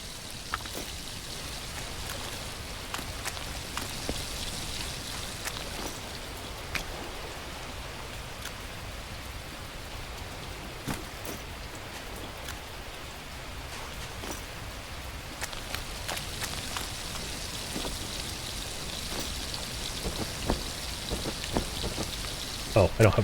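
Steady rain falling in the open-world survival video game The Last Plague: Blight, a continuous dense patter with scattered sharper drops throughout and no speech.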